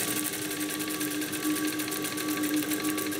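Sewing machine running steadily while stitching two cuff pieces for a striped blouse with a 0.5–0.75 cm seam, a continuous rapid whirring hum with fast regular needle pulses, close and alone.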